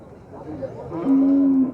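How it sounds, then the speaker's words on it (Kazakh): At a busy livestock bazaar, a cow or bull lets out a single low, sustained moo, loud and nearby, over a dull background of market murmur. "Бүгін базарға мал жанлықтар өте көп кірген."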